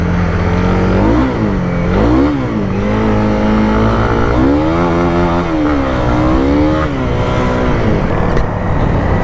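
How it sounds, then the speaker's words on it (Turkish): A motorcycle is ridden hard up close, its engine revving loudly and climbing in pitch through several gears, each shift marked by a brief dip before the next rising surge. "Arkadaşlar ben eski motoruma bindim."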